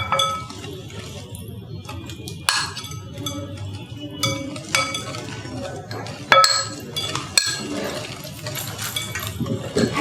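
Brownie batter beaten in a bowl, with irregular clinks and scrapes of a utensil against the bowl throughout, while people talk intermittently over the work.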